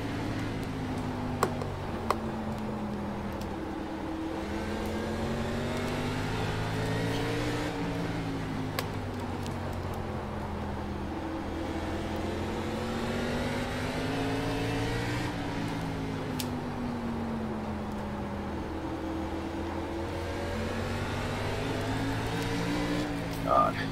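An ARCA race car engine in iRacing at Hickory drones steadily with rising and falling pitch as the throttle is worked through the corners, heard in a cockpit view with occasional faint ticks.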